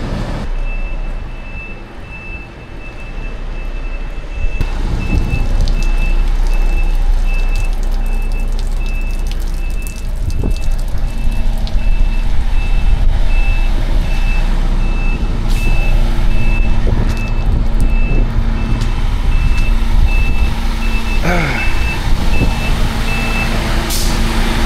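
A truck's reversing alarm beeps steadily through heavy rain on a farm during potato harvest, the evenly spaced tones ringing over constant rain noise and a low engine rumble for the whole stretch, with no talk.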